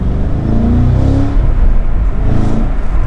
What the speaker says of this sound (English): Let's make the car loud by going into track mode. Open up the exhaust valves,